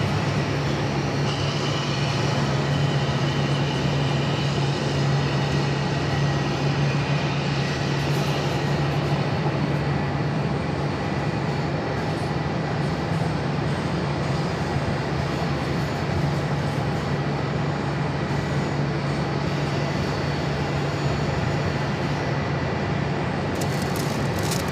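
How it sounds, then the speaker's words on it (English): Airbus A319 airliner taxiing and taking off at Phoenix airport, heard as a steady, loud, continuous broadband jet engine roar with a low hum that holds throughout. "This 319 is going to be taking off to San Antonio, Texas, flight 3198."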